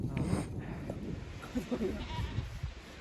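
A goat bleats on a mountain trek site in Bageshwar district, near Ramari, with short, fairly faint calls over rustling outdoor background noise and some voice.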